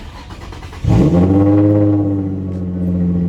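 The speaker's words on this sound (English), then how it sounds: "Start after all 6 coils and spark plugs are installed." An Infiniti G35 engine with about 190,000 miles and new spark plugs and ignition coils cranks and catches, then settles into a loud, steady idle with a deep rumble, close by.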